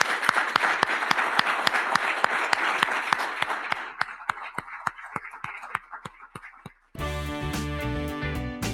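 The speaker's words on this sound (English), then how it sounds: "I would love for us to give him a round of applause anyway." Gala audience giving a round of applause at a benefit event, many hands clapping together in sharp regular beats that gradually thin out, then music cuts in abruptly.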